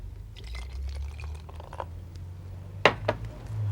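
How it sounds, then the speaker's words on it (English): Clear rinse water poured into a breastfeeding supplemental nursing system, a soft liquid pour followed by a couple of sharp splashes and drips close by, with no voices. "And so you use clear water for rinse again."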